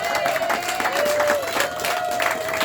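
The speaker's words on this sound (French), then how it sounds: "Est-ce qu'on peut encore acclamer plus que cela?" Wedding guests in a church clap and cheer together in a lively, continuous burst, with a sustained whistle or shout riding over the dense applause.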